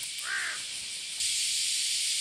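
A crow gives a single short caw at Sukuji Beach on Ishigaki Island, followed by a steady hiss of wind and surf that grows louder partway through.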